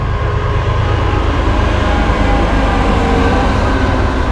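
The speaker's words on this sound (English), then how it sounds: "Here's the train that I was talking about." A train rolls past nearby outdoors by a pond, a loud, steady rumbling roar of wheels and cars that holds constant throughout with no voices.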